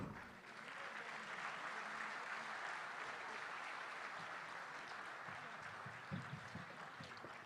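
Audience at the inaugural ceremony of the 144th IPU Assembly in Nusa Dua, Indonesia, applauding dancers after a performance, a distant, even roar of clapping from a large hall that holds steady throughout.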